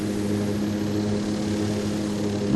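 A steady, droning airliner engine hum in the flight game Airline Commander, continuous and loud with a strong low tonal whine and no talking.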